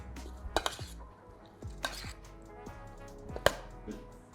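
A potato and asparagus salad with olive oil is tossed in a bowl, with a few sharp clinks and knocks of utensil on dish over quiet, soft stirring nearby.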